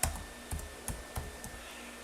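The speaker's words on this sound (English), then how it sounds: "let's say I want to type in my city" Several separate key taps on a computer keyboard, quiet and close, arriving in an uneven sparse rhythm against low room noise.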